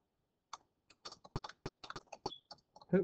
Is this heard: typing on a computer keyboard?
yes